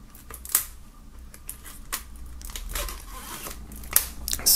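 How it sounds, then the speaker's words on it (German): Scissors snipping through the plastic shrink-wrap foil around an album, with a few sharp cuts and crinkling rustles of the film, close and moderately quiet. "das Album noch aus der Folie schneiden."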